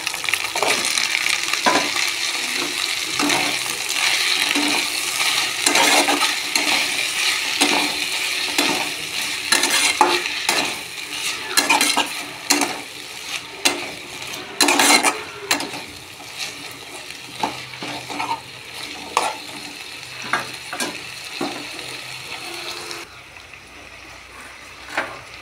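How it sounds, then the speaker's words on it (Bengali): Cut pumpkin greens are tossed into fried spice paste and stirred in a pan, a steady sizzle running under repeated scraping and clinking of a spatula against the metal pan for a long stretch, quieting near the end. "মশলাটা কষানোর পর কেটে রাখা কুমড়ো শাকগুলো দিয়ে দেব।"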